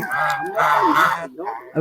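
Several ducks quack and honk loudly and close by in overlapping bursts, with a brief pause before another call.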